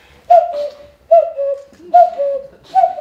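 A person imitates a turtle dove's call, voicing four near, loud, whistle-like cooing phrases in an even rhythm, each a short rise followed by a falling tone.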